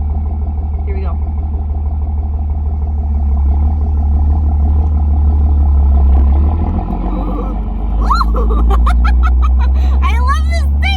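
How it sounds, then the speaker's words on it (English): A Dodge Ram 2500 turbo diesel truck pulls away with a loud, deep engine drone close by, while voices talk and exclaim over it toward the end. "Let's take your first spin. I usually start in second because this thing is very high torqued."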